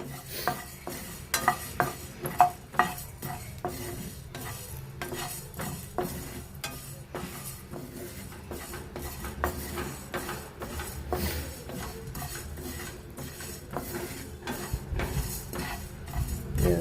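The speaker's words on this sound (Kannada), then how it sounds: "ಸ್ವಲ್ಪ ಹುರ್ಕೊಳ್ಳೋಣ. ಸ್ವಲ್ಪ ಕೆಂಪಗಾಗಲಿ, ತುಂಬ ಕೆಂಪಾಗಬಾರ್ದು, ಸೀದೋಗುತ್ತೆ." A spoon stirs and scrapes grains being dry-roasted in a metal pan, giving irregular clinks and rattles, some in quick bursts, over a quiet background with no voices.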